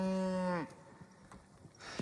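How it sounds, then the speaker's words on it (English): A cow in a herd being gathered to change pastures on dry open range moos once, long, loud and close, then fades into quiet with a faint low call near the end. "gathering a few cows and starting to move a few"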